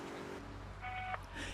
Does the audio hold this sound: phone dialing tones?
yes